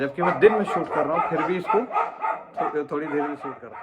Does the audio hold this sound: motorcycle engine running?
no